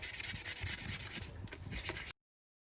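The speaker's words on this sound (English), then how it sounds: "So that's the wet sanding done." Wet sanding of an alloy wheel by hand with 2000 grit sandpaper, a steady close rubbing and scrubbing with quick back-and-forth strokes for about two seconds before stopping abruptly.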